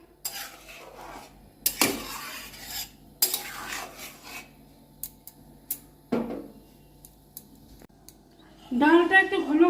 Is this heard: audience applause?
no